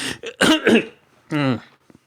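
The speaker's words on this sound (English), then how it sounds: "It's a note to self, edit out that cough." A close, abrupt cough and throat clearing, a couple of harsh bursts followed by a brief voiced grunt, very near the microphone.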